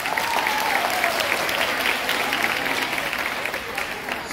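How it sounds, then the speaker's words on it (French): A graduation ceremony audience applauds steadily in a dense, continuous patter of many hands. A voice carries faintly over the clapping. "Un tonnerre d'applaudissements pour Madame Lenny."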